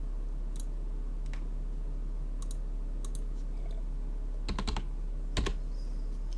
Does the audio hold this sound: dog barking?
no